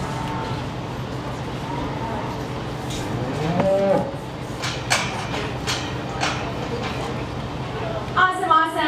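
Market heifers in the cattle barn at the Sheridan County Fair give a loud, drawn-out moo partway through, amid crowd chatter, clanks and bustle, with people talking throughout.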